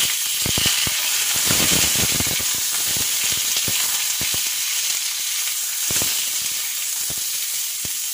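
Potatoes frying in a pan for a Bengali fish curry with ridge gourd, a steady close sizzle and hiss with scattered crackling pops throughout.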